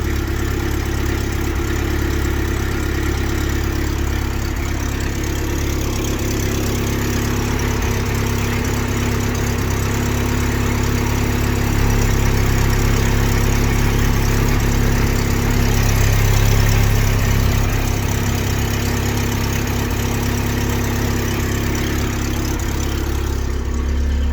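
A 1975 Toyota SR5 pickup with a 20R engine and five-speed manual idles steadily, giving a loud, close, continuous rumble with a slight rise midway and no talk.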